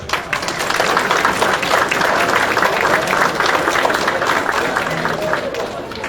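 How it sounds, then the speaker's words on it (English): Audience applause at an anniversary celebration, a steady burst of clapping from a crowd that holds for several seconds, with a few voices mixed in. "you all deserve a round of applause."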